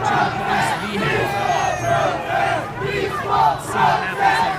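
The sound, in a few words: anti-Trump protest crowd chanting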